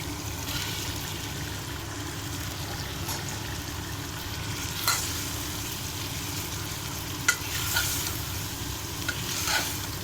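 Taro root frying with tomatoes in a pan for chamagadda pulusu, a steady low sizzle with occasional scrapes and taps of stirring, close and moderately loud, no talking.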